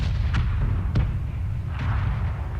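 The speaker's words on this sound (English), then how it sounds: "It startles you sometimes when those artillery shells go off." Artillery shells from the PUBG battlefield go off in two sharp distant cracks about half a second apart, over a low rumbling ambient hum.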